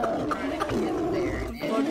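A tiger in the video game Tiger Pride Cenozoic Survival gives a low, rumbling roar that runs continuously, with a voice talking over it.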